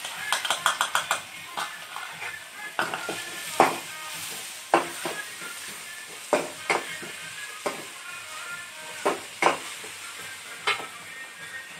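Masala and green chillies fry and sizzle with potatoes in a pan for aloo fry, with repeated sharp scrapes and clinks of a spoon stirring against the metal over a steady sizzle.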